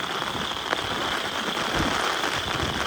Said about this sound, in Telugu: ఎంత వర్షం పడుతుంది అంటే అంత వర్షం పడుతుంది